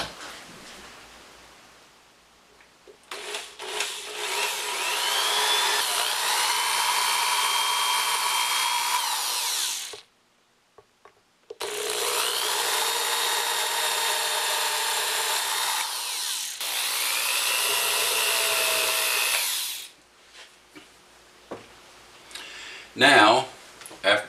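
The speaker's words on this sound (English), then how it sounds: "we're going to drill into those dimples that we just got through putting in the back of the peg head" A power drill whirs into the wooden back of a mandolin peghead, drilling tuner screw holes in several long bursts, pausing briefly between holes, close and loud, with a short clatter at the end.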